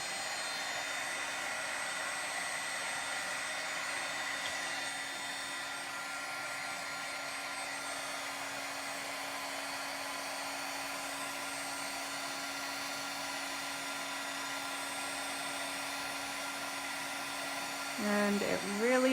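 A heat tool blows steadily to dry and melt a craft foiling medium for reverse foiling, giving a constant loud whirring hiss that runs unbroken throughout, with a slight change near the end.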